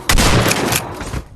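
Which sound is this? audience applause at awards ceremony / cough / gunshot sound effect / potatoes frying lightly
gunshot sound effect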